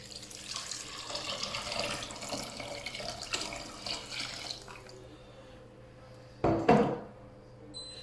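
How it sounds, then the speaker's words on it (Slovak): Water poured from a pot or tap into sautéing vegetables for a carrot and parsley root soup, a steady broad rushing pour for about five seconds, then a short louder splash near the end, close and without talk. "Zeleninka, keď nám začína rozvoniavať, zalejeme ju vodou."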